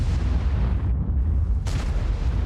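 An autoloading Strv tank fires its main gun in a tank video game on a Stalingrad battle map: a loud, sharp blast erupts over a dense, continuous rumble of battle noise.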